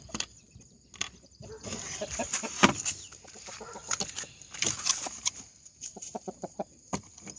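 An Orpington hen clucks after laying an egg, giving a run of loud, uneven cackles and clucks close by, with brief wing flaps mixed in and the calls thinning to single clucks toward the end.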